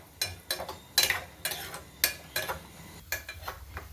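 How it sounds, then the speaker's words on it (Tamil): Wheat halwa with cashews is stirred and fried in a pan: quiet, rhythmic scraping strokes, about two per second, with a faint sizzle underneath. "அது வரையும் நல்லா ஃப்ரை பண்ணிகிட்டே இருப்போம்."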